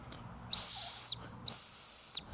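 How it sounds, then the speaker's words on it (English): Two loud, shrill emergency whistle blasts from a multitool, each held for about half a second, with a short pause between them. "You can blow a whistle, and hopefully somebody hears it and comes and finds you."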